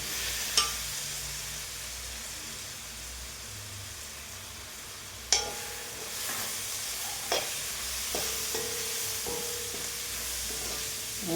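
Onions frying in a pan with half a teaspoon of turmeric and a tablespoon of chili powder, a constant close sizzle broken by a few clicking knocks of a spoon as the mixture is stirred, no voices.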